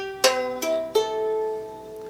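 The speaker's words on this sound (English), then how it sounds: "Not perfect, but it's basic ukulele tuning" A cheap five-dollar ukulele in standard GCEA tuning, with three strings plucked one after another that ring out clearly and decay slowly, close and fairly quiet, with no voices.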